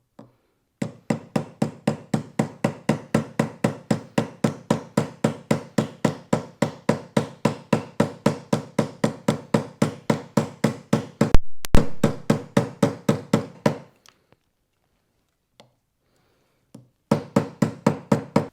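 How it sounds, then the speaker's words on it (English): Steady, rapid hammering with a chasing hammer, setting metal rivets against an anvil while forming a prop communications badge; dozens of evenly spaced sharp metallic strikes run continuously, with one heavier knock midway, a short pause, then a final burst of strikes. "I've got my chasing hammer. I'm going to hold it on here and then start to strike"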